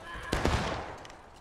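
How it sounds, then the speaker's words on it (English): Musket volleys in the War of Rights Civil War video game: a loud, dense burst of overlapping shots for about a quarter second, then a fading rumble and scattered distant cracks. "Keep shooting, Texas."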